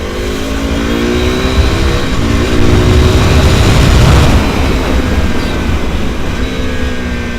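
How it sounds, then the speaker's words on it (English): A KTM motorcycle with a wrapped exhaust revs loudly and steadily up close, its engine note swelling slightly in the middle and holding a continuous rough roar throughout. "Plus the exhaust note, I don't know if you can hear it or not."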